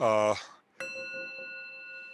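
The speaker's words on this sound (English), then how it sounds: "There it is. There's the bell." A meditation bell is struck once and rings on with a clear, sustained tone that slowly decays. A short burst of voice precedes it.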